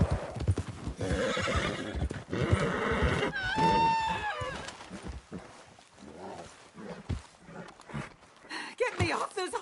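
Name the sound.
horse neighing in video game Red Dead Redemption 2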